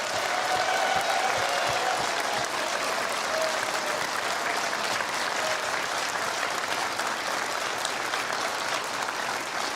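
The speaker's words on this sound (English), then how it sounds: "please give them a huge round of applause" An audience at the Australian of the Year Awards ceremony on Australia Day applauds loudly and continuously, a dense wash of clapping that holds steady throughout.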